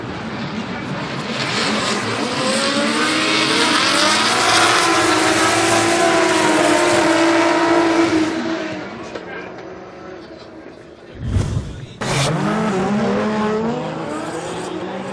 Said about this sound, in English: Yuichi Amaga from Perfect Style driving his banana yellow S15 Sylvia.